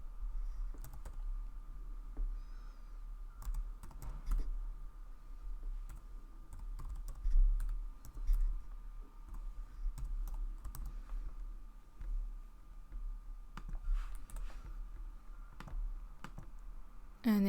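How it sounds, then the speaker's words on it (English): Someone types a domain name on a computer keyboard, producing quiet, irregular key clicks spread across the whole stretch over a low steady hum. "you're basically just going to type in the domain that you want"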